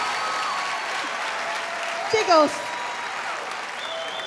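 Applause from a studio audience at a televised dance competition show after a samba, steady dense clapping throughout with a voice speaking briefly over it.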